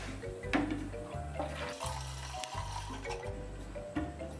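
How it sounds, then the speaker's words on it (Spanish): Coffee pours into water while making agua de café, a continuous gurgling liquid flow with bubbling pitch shifts and faint clinks, fairly close and without speech. "Ahora ponemos el café."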